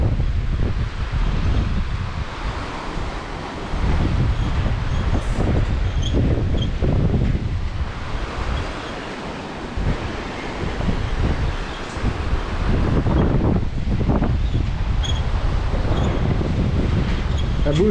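Wind gusts beside the Lula river in Spain, roaring and buffeting continuously with rising and falling surges for the whole stretch, alone and with no talking.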